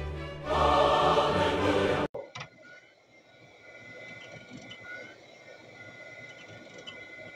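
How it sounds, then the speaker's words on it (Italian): An IBM PS/2 Model 30 286 powers up with a loud, rushing burst of noise that cuts off abruptly, followed by a quieter, steady whirring as the hard disk spins. "accendiamo il computer così sentiamo anche l'hard disk che gira mentre si avvia"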